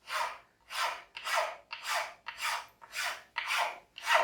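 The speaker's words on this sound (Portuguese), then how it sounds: "Hoje eu vou ajustar com a lima porque é mais fácil de vocês terem em casa uma lima como essa" A hand file rasping wood while shaping a marking gauge, eight even back-and-forth strokes in a steady rhythm, close and fairly quiet, with no talking.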